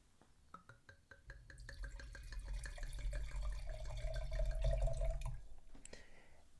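Liquid, apparently wine, poured from a bottle in a close, steady trickle with dripping, rising gurgle and a soft splash, alone for about five seconds before stopping.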